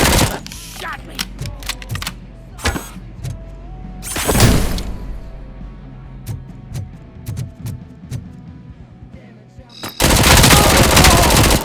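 Rapid automatic gunfire from a shootout in the video game Robocop: Rogue City, loud bursts of shots under shouted voices, with a heavy sustained blast of fire near the end.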